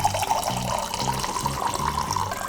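Mineral spring water from the 12th spring, a less salty source, pouring steadily from a tap at an outdoor spring in Bashkortostan's Gafuriysky district, a continuous close splashing stream with low pulsing gurgles.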